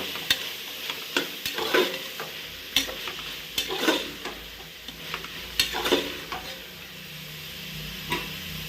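Soaked soya chunks and dried peas being stirred in a frying pan, with repeated scraping strokes of a spoon over a soft, continuous sizzle.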